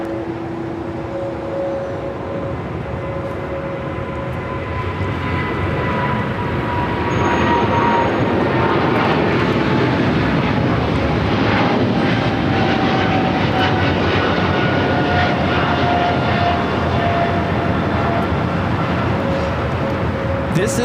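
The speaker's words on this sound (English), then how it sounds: "This is Japan Airlines Flight 15 taking off to Tokyo Haneda on the 777-300ER." A Japan Airlines Boeing 777-300ER takes off from LAX. Its engine roar rises and then holds loud and continuous, with whining tones drifting through it. People talk partway through.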